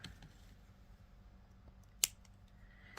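Scissors snip through a necklace strand in one sharp, crisp cut, with a fainter click just after, close and alone in a quiet room.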